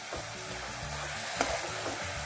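Colostrum sweet mixture with cardamom powder is stirred in a pan, a soft continuous sizzle with gentle scraping strokes of the spoon, fairly quiet and close.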